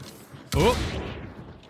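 A Romero shotgun fires once in the video game Hunt: Showdown, a single sharp loud blast followed by a fading echoing tail, with no other sounds around it.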